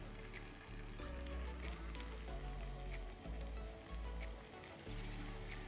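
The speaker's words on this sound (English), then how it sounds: "I'm going to put them on our pan. Make sure that it's with oil." Cottage cheese pancakes fry in an oiled pan with a steady, close sizzle, while a low hum and faint clinks of cookware run underneath and no voice is heard.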